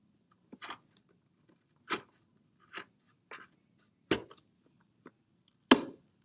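Short, sharp cutting snips through the last bit of a homemade spectroscope, about eight separate crisp cuts spaced irregularly, close and alone with no talking.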